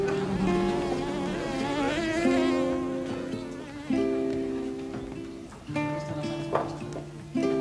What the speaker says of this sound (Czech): Vidím, krčmářko, že ti tady lítají hejna drzých much.